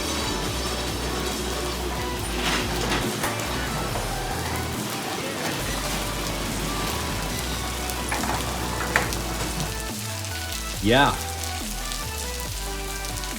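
Steady rain tapering off patters across the whole span, a dense hiss of drops on a surface, with a brief voice near the end.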